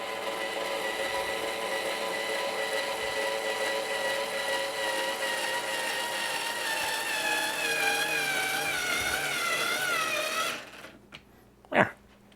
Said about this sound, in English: So, little screwdriver has got quite a bit of power.